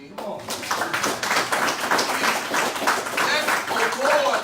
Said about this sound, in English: Y'all better start clapping in